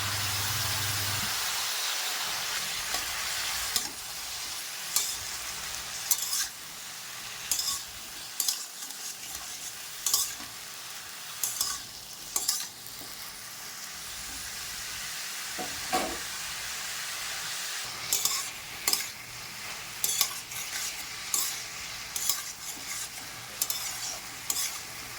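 Water lily stems frying in a pan with salt and turmeric, a constant soft sizzle broken by repeated scraping stirs of a utensil at a close, even pace.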